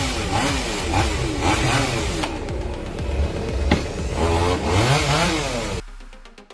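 A chainsaw cuts a tree without safety gear, its engine roaring loudly and close, revving up and down in waves, then cutting off abruptly at the end.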